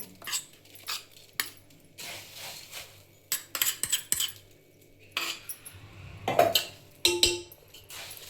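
Puffed rice coated with paste is stirred in a metal pot for chivda, producing crisp rustling scrapes and light clinks of a spoon against the pot in uneven bursts, close up, with no voices.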